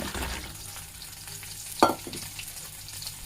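Cabbage, beans and tomato simmering in turmeric-spiced water in a pan, a soft steady bubbling and hiss with one brief clink of a utensil partway through.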